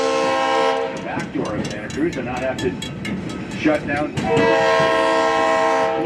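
Roaring Camp railroad train near Santa Cruz rolls along with steady rumble and rail clatter, its horn blaring loudly at the start and again at the end, while a person talks over the middle.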